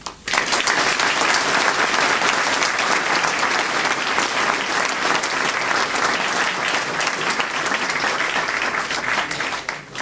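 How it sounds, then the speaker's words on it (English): A large audience applauds His Excellency the Bailiff at an event, producing loud, dense, sustained clapping that holds steady for about ten seconds and then tapers off abruptly at the end, with no talking over it. "Please join me in a round of applause to His Excellency the Bailiff."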